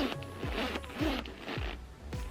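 Zipper of a Louis Vuitton Pochette Metis bag being pulled, a series of quick rasping zips in a close, quiet room, repeated about five times in a rhythmic back-and-forth.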